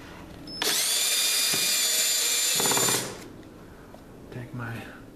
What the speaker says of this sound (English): Drill this one in.